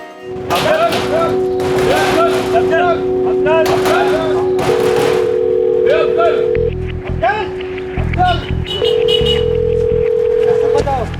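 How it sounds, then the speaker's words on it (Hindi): A telephone dialed to reach a factory manager, with steady tones sounding over continuous talk and background noise. "तभी सीधे फ़ोन घुमाए मैनेजर साहब को"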